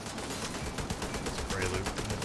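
A turret firing in The Division 2, rapid repeated gunfire in steady bursts mixed with other shooting and game sounds, with talk faintly underneath.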